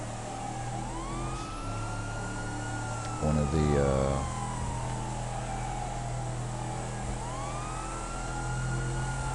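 Emergency vehicle siren from GTA Online, a steady wailing tone sweeping up and down through the whole stretch beneath a game engine rumble, with a short burst of louder engine or horn noise partway through and a brief spoken phrase.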